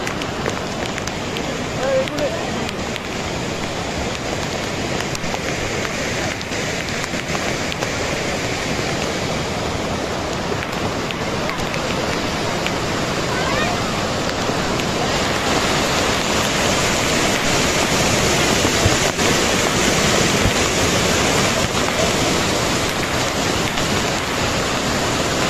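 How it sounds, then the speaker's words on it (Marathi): Strong rushing water at Lonavala roars as a loud, steady wash through the whole stretch, with a voice talking over it. "बघा किती इतकं जोरात पाणी येत आहे ना, खूपच"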